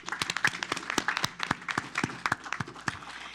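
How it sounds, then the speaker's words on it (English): Scattered round of applause from a modest audience at a city council meeting honoring a staff member named Louis, with individual hand claps distinct and uneven rather than a dense roar, moderately close. "Let's give Louis a round of applause."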